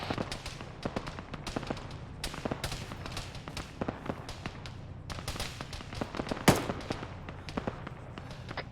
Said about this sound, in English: Lots of fire from the north.